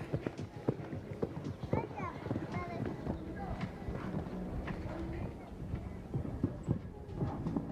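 Show jumping horse cantering on a 1.50 m World Cup course at Copa Anáhuac Puebla, its hooves thudding in a quick, steady rhythm under continuous talking, with occasional louder hoofbeats.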